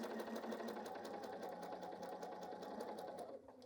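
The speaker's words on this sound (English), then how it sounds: "let's grab our project and sew some pieces" A sewing machine stitches pieces of fabric together in a quilting project, a fast, steady mechanical whir with rapid needle ticks, faint and close, running continuously before slowing to a stop.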